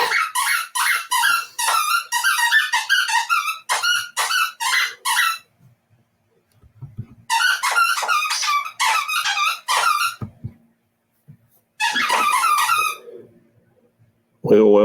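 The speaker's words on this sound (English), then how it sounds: "I think she just likes hearing that squeak." A squeaky toy squeezed in quick repeated bursts, loud and close, with clusters of rapid high squeaks separated by short pauses.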